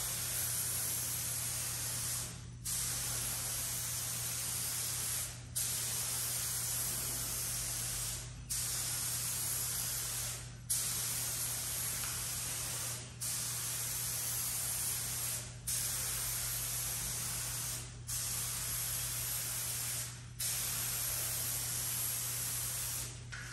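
An Eastwood LT100 paint gun laying down Dupli-Color paint in close, loud sustained bursts, about nine passes with brief pauses between them, no talking.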